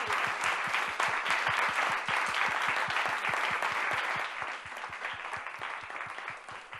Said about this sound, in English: Applause to our pioneers.